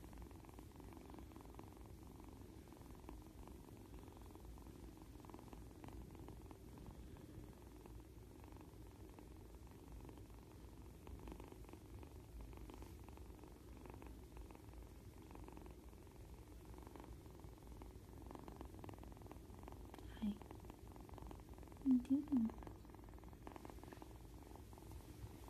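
A kitten purrs softly and steadily throughout, close but faint, a continuous low rumble with a couple of small rustles near the end.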